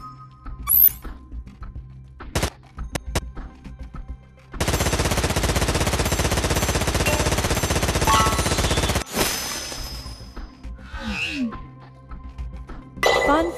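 A mounted machine gun in Dome Defenders VR fires a long, dense burst of a few seconds, loud and close, cut off abruptly, with scattered metallic clinks and clangs before and after.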